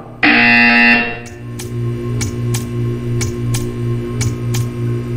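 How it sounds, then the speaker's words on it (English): A loud electronic buzzer in Portal 2 blares for about a second, then gives way to a steady low hum with evenly spaced sharp ticks. "You will hear a buzzer."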